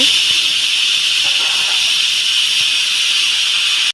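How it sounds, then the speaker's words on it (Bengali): A pressure cooker on the stove with meat boiling inside lets off a loud, steady steam whistle that hisses continuously for about four seconds before cutting off abruptly. "প্রেশার কুকারে ঢাকটা লাগিয়ে পাঁচ থেকে ছয়টা শীষ দিয়ে মাংস সেদ্ধ করে নেব"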